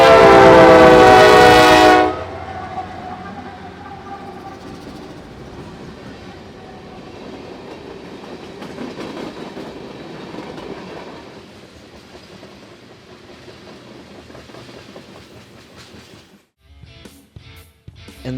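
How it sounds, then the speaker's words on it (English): A freight train led by an AC44C6M and two Canadian National locomotives opens with a loud, sustained horn blast, then rumbles past steadily with clattering railcars that fade toward the end. "Once it arrived, I took some photos and recorded this interesting lash-up, which included 2 Canadian National locomotives as well."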